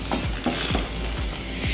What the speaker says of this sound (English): I'm gonna start mixing